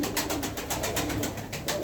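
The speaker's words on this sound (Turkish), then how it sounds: "19 tane kuş var" Arka Tepe pigeons coo inside a loft, a soft, steady run of repeated low coos close by, with no talk.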